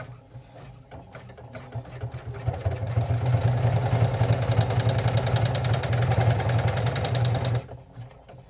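An embroidery machine stitching a seam on a water bottle sling bag makes a steady mechanical whir and rapid needle chatter that builds up, runs evenly for several seconds, then stops.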